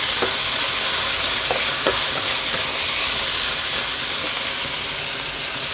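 Crispy pork and holy basil stir-fried in a pan give a steady, close sizzle and hiss, with a few light scrapes of the spatula and no voices.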